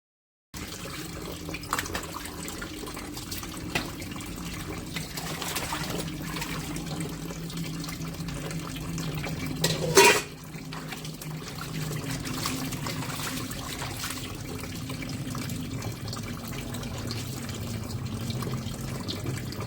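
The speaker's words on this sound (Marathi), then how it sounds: "जी काही खरकटी वगैरे भांडी असतात ती स्वच्छ करून घ्यायची" Tap water trickles and pours steadily while dirty, food-stained dishes are washed. The flow stays soft and even for the whole stretch, with one brief louder splash near the middle and no talking.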